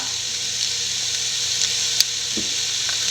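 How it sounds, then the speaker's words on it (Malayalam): Sliced onions hit hot oil in a pan for an egg roast, giving a steady, moderately loud hiss of sizzling with a couple of brief clinks and stirs near the end, and no voices. "നമ്മുടെ എണ്ണ ചൂടായിട്ടുണ്ട് ഈ സവോള ഇട്ട് കൊടുക്കാം ആവശ്യത്തിന് ഉപ്പിട്ട് കൊടുക്കാം"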